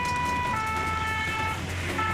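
A fire engine siren wails steadily over low road noise, sounding fairly close throughout.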